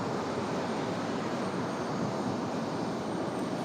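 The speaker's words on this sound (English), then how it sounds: "Southwest 9005 coming in from Phoenix Sky Harbor, 3 hours 48 minutes of flight time" Southwest Airlines flight 9005 from Phoenix Sky Harbor arrives at Raleigh-Durham International Airport with a steady, loud, broadband jet roar that holds without a break, and nobody speaks.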